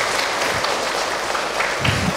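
A crowd claps steadily and loudly throughout, dense applause filling the whole short stretch.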